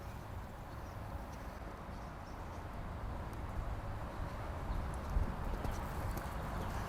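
A horse's hooves clip-clop in a steady rhythm on soft ground during a riding training session, faint and continuous under a low outdoor background hum.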